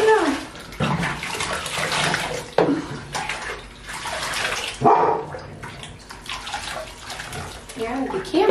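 Running water from a bathtub tap rinsing a goldendoodle puppy during its first bath, a steady close splashing rush that swells and dips, with people talking over it.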